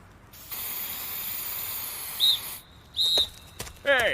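Aerosol spray paint hissing steadily against a wall for about two seconds while graffiti is sprayed, followed by short mechanical clicks and chirps nearby, at a moderate level with no talk.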